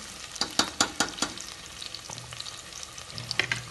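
Onions frying in a pan for chicken biryani, a sharp sizzle punctuated by several crisp spatula strikes early on, then quieter steady frying with occasional scrapes, close and without speech.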